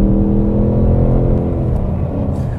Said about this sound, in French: c'est le bruit de son V8.